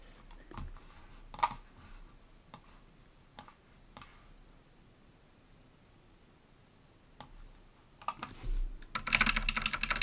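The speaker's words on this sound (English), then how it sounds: "I just use the arrows on my keyboard to do this." Sparse, separate presses of computer keyboard arrow keys, a few isolated taps spread out, then a quick burst of rapid clicking at the end.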